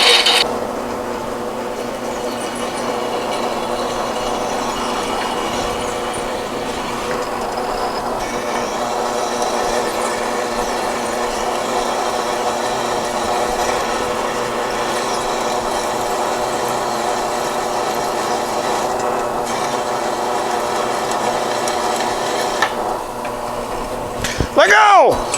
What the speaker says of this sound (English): Drill press going hot.